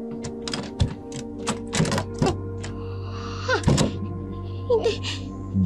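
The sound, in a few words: key turning in a doorknob lock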